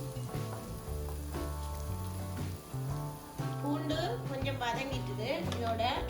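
About ten cloves of finely chopped garlic sizzle and fry in hot oil in a pan, a soft steady crackle beneath a person talking and background music.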